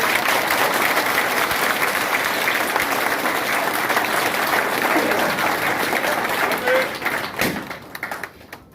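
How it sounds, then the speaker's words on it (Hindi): Loud, sustained applause from a crowd at a birthday celebration for BJP leader Rajendra Singh Rathore, dense steady clapping for about seven seconds before thinning out near the end. "हम सब जोरदार तालियों की गड़गड़ाहट"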